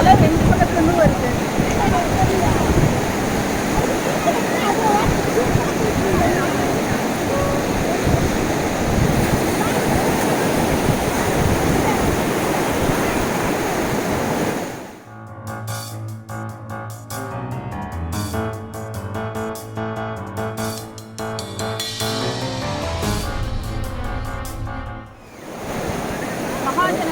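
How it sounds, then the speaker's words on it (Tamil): Sea waves break on both sides of a narrow spit at Dhanushkodi near Rameswaram, making a loud, continuous roar of surf and wind for about fifteen seconds before music takes over. "பாருங்க, அலை 2 பக்கத்துலேருந்து வருது."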